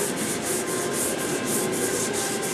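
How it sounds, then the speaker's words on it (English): Steady rhythmic sanding of glazed areas, a continuous close abrasive rasp with regular strokes roughly every quarter second, loud and alone without talk. "Just sand the glazed areas and,"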